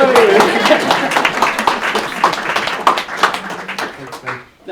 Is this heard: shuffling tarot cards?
no